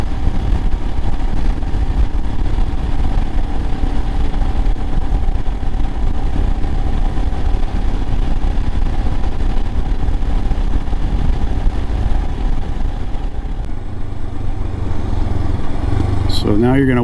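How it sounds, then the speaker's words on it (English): A 2022 Royal Enfield Himalayan motorcycle engine drones steadily throughout while riding, a continuous close rumble with wind noise and a brief rising whine near the end. "Just have engine noises now."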